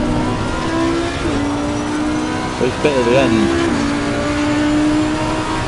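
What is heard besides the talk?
race car engine at speed, Assetto Corsa Competizione video game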